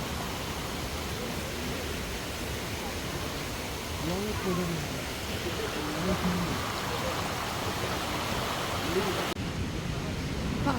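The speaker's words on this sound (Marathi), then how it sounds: "मस्त पाणी वाहत आहे डोंगरातून" A monsoon stream rushes down the mountainside near Lingmala waterfall in Mahabaleshwar with a steady, full roar of flowing water. Faint voices rise now and then beneath it.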